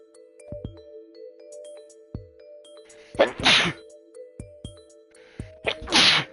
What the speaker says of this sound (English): I feel like I have to sneeze again.